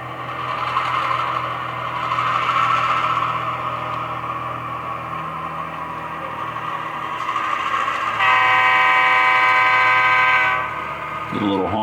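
A model railroad train sounds its horn in a sustained toot of a few seconds over a continuous motor hum near a bridge and overpass, ending in a brief clatter.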